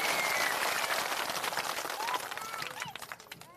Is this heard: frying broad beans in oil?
no